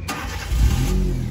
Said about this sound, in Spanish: Listo, ahí el carro encendió.